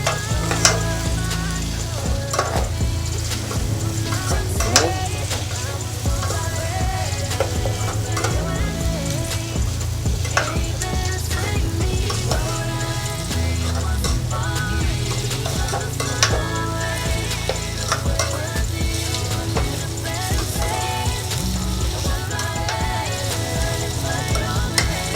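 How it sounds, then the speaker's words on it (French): Carrots being stirred in a frying pan, with steady sizzling and frying under repeated scraping and clinking of the utensil against the pan. The sound is continuous and fairly loud, and no one speaks. "Allez, on mélange un peu."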